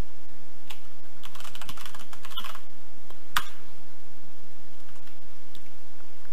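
A command being typed on a computer keyboard while installing dependencies on a Linux server: bursts of quick, close key clicks with short pauses between, alone without talk.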